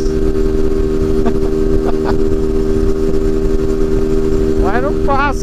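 A Yamaha Factor 150cc motorcycle descending a mountain road, its engine droning steadily and loud throughout, with revs cut back while a rider talks over it.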